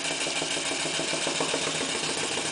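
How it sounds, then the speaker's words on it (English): A Clarkson inverted steam engine fed by a PMR boiler running steadily at speed, a rapid even chuffing exhaust beat with a constant mechanical whir, close and continuous, no talking. "the engine's responding by speeding up as well because it's getting actually more steam"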